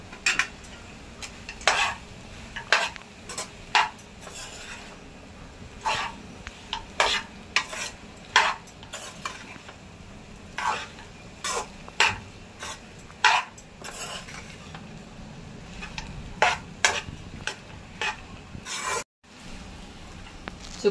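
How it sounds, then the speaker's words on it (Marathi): A wooden spoon stirs sabudana khichdi with peanuts in a nonstick pan, making repeated soft scraping knocks in an irregular rhythm over a low, constant sizzle, close to the mic with no talking. "आता लाकडी चमचा घेतलाय त्याचा"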